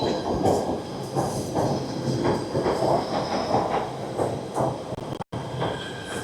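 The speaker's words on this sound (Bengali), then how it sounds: "তো ট্রেন দাঁড়িয়েই আছে" A commuter train waits at a station platform in the New York area, its steady rumble and rail noise filling the space with brief squeals and clatter, moderately loud and continuous.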